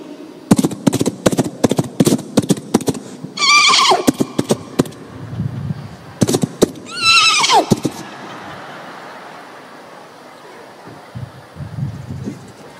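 A man imitates a horse during a religious lecture at a mosque, giving two shrill, descending whinnies amid rapid clicking clip-clop sounds made with the mouth, loud and close, with a murmuring crowd afterward.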